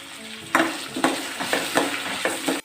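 Tomatoes and onions fry in oil for a chicken gravy while a spoon strikes the pan in regular stirring strokes, about five or six distinct scrapes over a continuous sizzle.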